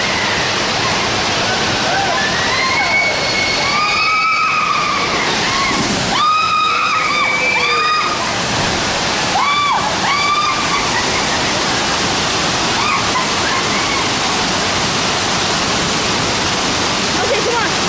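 Loud, steady rushing water fills the scene at the Typhoon water ride, with splashing throughout and voices calling out over the torrent.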